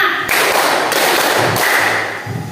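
Group hand clapping in a classroom ice-breaking clap game, dense and continuous as many children clap together in numbered rhythmic rounds, fairly loud and close.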